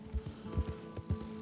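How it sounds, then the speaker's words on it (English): Horse hooves clip-clopping on the ground in the video game Red Dead Redemption 2, a quick uneven run of soft thuds heard fairly close over low ambient game noise, with no talking. "Get on my horse."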